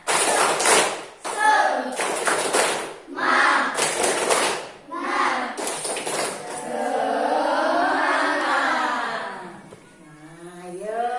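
Classroom group performing a rhythmic 'tepuk semangat' spirit clapping chant, with bursts of claps and shouted voices in a steady pattern, followed by a single voice talking near the end.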